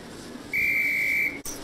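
A single sharp sustained whistle blast, about three-quarters of a second long, in the Harry Potter and the Sorcerer's Stone PlayStation game, clear over quiet game ambience.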